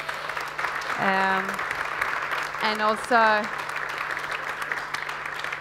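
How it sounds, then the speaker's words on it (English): Award ceremony audience applauding steadily for several seconds, a dense, even patter that holds at moderate loudness while a speaker talks over it. "A huge applause, I think, to you."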